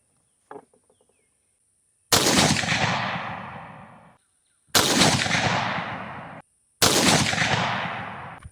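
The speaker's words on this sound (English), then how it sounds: "I'm gonna shoot how I was shooting. Same load, bottom target." Three loud rifle shots from a BCA bolt action upper firing 69gr RMR bullets, each a sharp blast with a long ringing decay, spaced a couple of seconds apart, after a faint earlier rattle.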